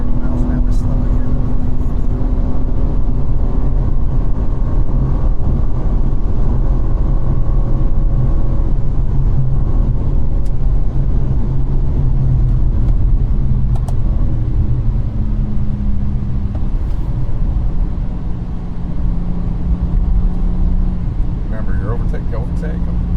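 A race car engine drones loud and steady from inside the car through a track lapping session, shifting pitch now and then, with people talking over it.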